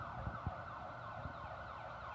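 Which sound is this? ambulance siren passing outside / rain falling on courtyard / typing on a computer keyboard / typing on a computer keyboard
ambulance siren passing outside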